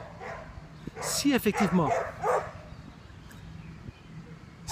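Dogs in a small park give a brief cluster of yips and short barks at middle distance, mixed with a person talking over a low outdoor background.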